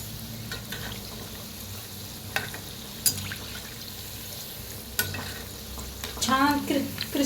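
Leftover chapati pieces deep frying in oil crackle and sizzle steadily up close, with occasional sharp clicks of a utensil and a burst of stirring and bubbling toward the end.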